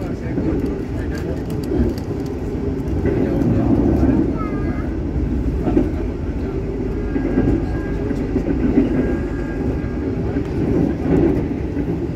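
A steady rumble and rattle from aboard a moving KA Lodaya economy-class train passing a high-speed rail depot continues throughout, with a person talking over the noise.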